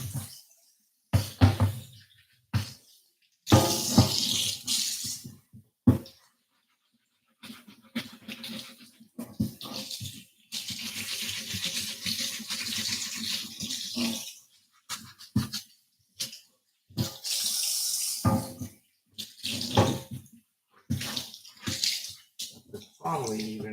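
A water tap runs in bursts while cast iron is cleaned after a lye tank soak. The flowing, splashing water starts and stops, with a person talking in between and over it.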